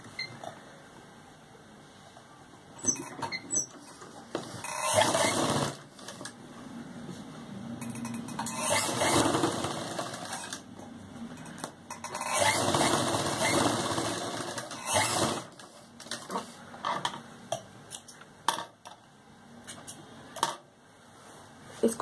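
A sewing machine stitches Patiala salwar fabric in bursts of rapid mechanical whirring separated by quiet pauses, while someone talks softly between and over the runs.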